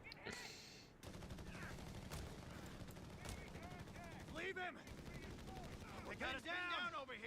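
MG42 machine gun fire in the Company of Heroes 3 video game rattles in rapid sustained bursts amid battle noise and other gunfire, with a commentator talking over it.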